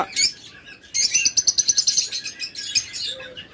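Pet lovebirds and budgerigars in a breeding setup chirp in rapid bright bursts, with a dense run of quick repeated tweets in the middle, close and fairly loud with no voices.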